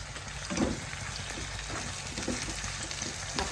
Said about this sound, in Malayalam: തക്കാളി ഒരു സവാളയായിട്ട് നല്ലതുപോലെ ഒന്ന് വെന്തോടയണേ ഒന്ന് ഇങ്ങനെ ഇളക്കിയിട്ട്